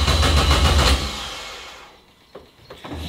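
A Renault Mégane engine catches and runs loudly and roughly for about a second, then dies away as the immobiliser cuts it, leaving near silence with a few faint clicks and knocks.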